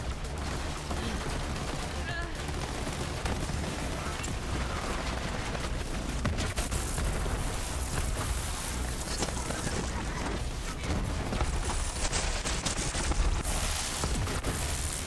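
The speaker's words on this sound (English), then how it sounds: "this is a homing double TDOR SMG with the E-Tech. So it makes a big incendiary puddle" Sustained gunfire from a homing double Tediore E-Tech SMG in Borderlands 3 that leaves an incendiary puddle, a dense unbroken stream of shots and impacts mixed with game effects and talk.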